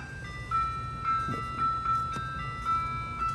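An ice cream truck's tinkly, repeating jingle plays at a distance, a thin melodic tune carried over faint low traffic rumble, with no talk over it.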